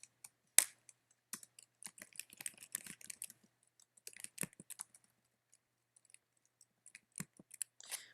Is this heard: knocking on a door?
no